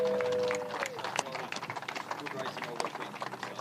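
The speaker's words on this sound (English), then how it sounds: "we need to give him a big round of applause" A crowd at a motor racing round at Winton Motor Raceway claps for the round winner, a scattered, moderately distant patter that follows a brief tone and some background murmur.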